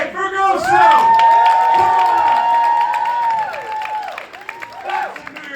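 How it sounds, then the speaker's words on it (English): A gala crowd on a rainy Thursday night in New York City cheers loudly, with a long sustained whooping cry held over the clamor before the noise fades into scattered shouts. "That's a New York City Thursday night crowd, even in the rain, AJ."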